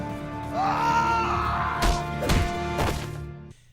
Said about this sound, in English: the sound effect of him like screaming, it sounds like royalty-free sound effects